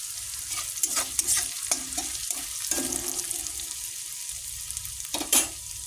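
Garlic frying in a pan for a home-style curry, stirred with a spatula: a steady sizzle with scraping strokes and sharp utensil clicks against the pan, close and fairly loud.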